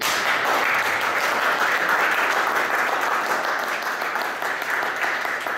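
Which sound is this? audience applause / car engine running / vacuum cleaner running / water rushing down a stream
audience applause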